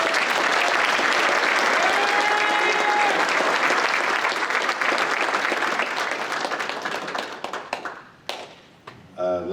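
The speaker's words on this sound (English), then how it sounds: "So let's have a nice round of applause for that." An audience at a high school hall of fame induction ceremony applauds loudly and continuously for about eight seconds, a dense wash of clapping that tapers off before a voice begins speaking.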